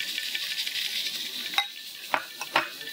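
Chopped green chilies and curry leaves sizzle in hot oil in a pan for a Bohri-style potato dish, giving a steady close crackle with a few brief spatters and stirring scrapes.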